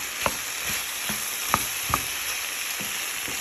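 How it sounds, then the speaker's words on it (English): Mushrooms fry in a pan with wild vegetables for breakfast, making a constant gentle sizzle punctuated by several sharp utensil taps and clicks. "I'm gonna add the mushroom as well, because the mushroom needs time to cook as well."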